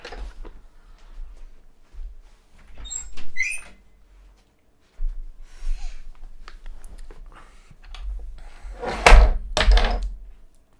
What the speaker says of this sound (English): Had to open the door.